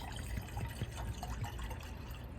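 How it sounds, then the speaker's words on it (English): Liquid for a hot toddy free-poured into a glass, a soft continuous trickle with faint splashy drips, quiet and close, with no voices. "I'm just gonna pour it in this glass right here"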